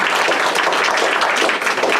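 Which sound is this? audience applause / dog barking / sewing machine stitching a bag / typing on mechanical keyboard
audience applause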